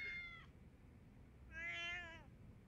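Two meows from a cat in a video game, a short one then a longer drawn-out one after a brief pause, fairly faint over a low background hum.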